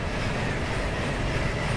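A Class 91 electric locomotive on the British rail network running in Train Sim 2021, a steady loud rolling rumble with a dense even wash of track noise and no talk.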